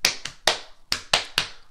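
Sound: rhythm ta-dee-ta patted or clapped with hands

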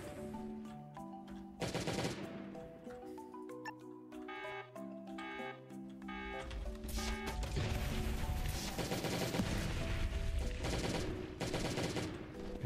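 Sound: grenade launcher firing in the video game Last Day on Earth: Survival

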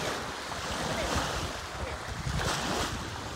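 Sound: waves at the beach

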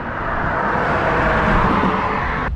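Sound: cars passing loudly on road beside cyclist

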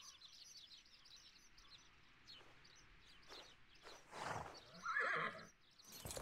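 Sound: horse in a video game

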